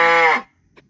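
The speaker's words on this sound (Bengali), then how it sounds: "cow sound" A single cow moo, short and loud, from a stock animal sound effect, followed by silence and a faint soft thump.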